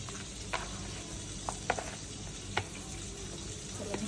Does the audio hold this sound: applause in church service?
no